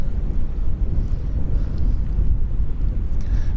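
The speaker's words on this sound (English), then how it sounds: "We've just got a big gust of wind from behind us." A strong gust of wind buffets the microphone outdoors at Lanzarote Airport, a steady, loud low roar that persists throughout with no voices.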